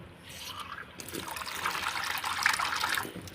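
Water is poured in a steady, close splashing trickle that swells slightly toward the end, with no voices.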